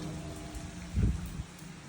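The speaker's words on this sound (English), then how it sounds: "And I think the rain's gonna let up real soon." Steady rain falls during an outdoor walk near an old railroad bridge and tunnel, a soft continuous hiss with a brief louder splash or footstep near the middle.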